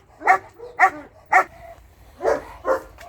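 Guard dog barking at a spot it has been trained to protect, five sharp close barks in two quick clusters, three then two, with short gaps between them.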